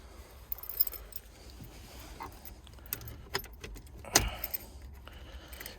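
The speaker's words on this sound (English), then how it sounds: "Let's be brave and put the key in." Keys jangle and clink as a key goes into the ignition of an MGB sports car, a cluster of small metallic rattles with a louder clatter near the end, close to the microphone in a quiet setting.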